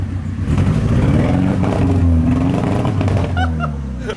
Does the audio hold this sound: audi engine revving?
yes